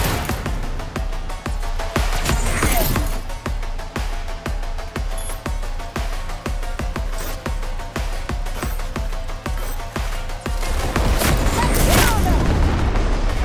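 Steady, rapid gunfire in Cyberpunk 2077: Phantom Liberty, evenly spaced loud shots repeating for several seconds over a dense game soundscape, briefly swelling into a louder burst near the end.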